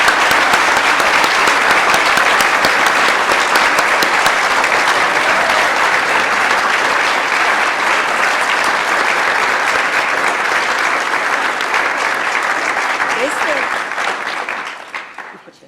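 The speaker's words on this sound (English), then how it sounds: "please join me in giving Peter Newman a final round of applause." A lecture audience gives a final round of applause at the close of a 2024 memorial lecture: sustained, loud, dense clapping that holds steady for about fourteen seconds before quickly dying away.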